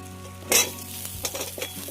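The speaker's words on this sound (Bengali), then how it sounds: "আলু একটু ভাজা করে নেবো।" Potatoes drop into hot oil with onion and slit green chillies, giving a sharp burst of sizzling followed by crackling frying and a few stirring scrapes, close and with no talk.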